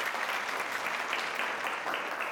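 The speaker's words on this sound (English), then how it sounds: "All right, give yourselves a round of applause." Quiz show participants and audience give a round of applause, a dense continuous patter of clapping with no talk, steady and fairly loud throughout.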